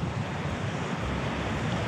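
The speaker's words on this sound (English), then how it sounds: "you can really see that white water just smashing Kapiti Island on those exposed rocks" Surf crashes against exposed rocks off Kapiti Island, a dense, continuous roar of breaking waves mixed with wind buffeting the microphone.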